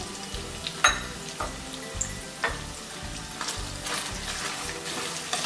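Chopped potato and onion fry in a pan with oil for batata poha, a steady sizzle broken by scraping and stirring knocks from a spoon against the pan, with no talking.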